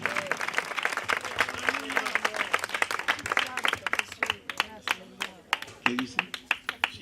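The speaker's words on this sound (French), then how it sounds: "Denle un aplauso a Dios." A church congregation applauds together, a steady wash of clapping with a few sharper individual claps near by, with voices mixed into the crowd noise throughout.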